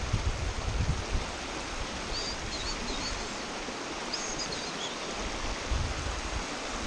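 Fast-flowing river water during New York salmon fishing, a steady broadband rush close by, continuous and fairly even throughout with faint high chirps above it.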